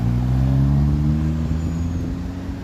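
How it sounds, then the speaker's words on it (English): A Dufferin city bus passes close by on a rainy Toronto street on a Saturday evening. Its engine rumbles deep and steady, then fades slightly as it goes. "There's the Dufferin bus."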